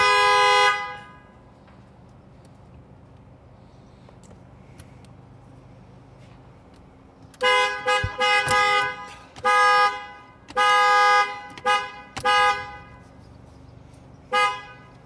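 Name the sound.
Ford Mustang S550 car horn being tested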